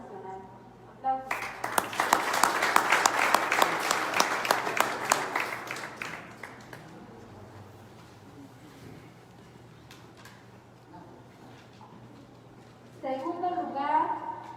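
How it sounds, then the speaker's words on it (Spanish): An audience at a comic and graphic novel award ceremony breaks into applause for several seconds, a moderately sized clapping crowd that tapers off, with a voice speaking before and after. "Aplausos."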